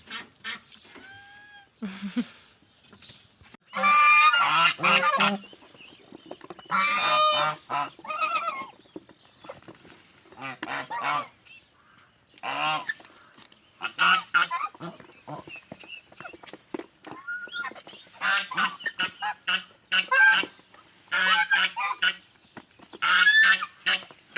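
Inside a farmyard goose shed, geese honk and chatter in irregular bursts while eggs are checked, fairly close and moderately loud, with someone speaking between and over the calls.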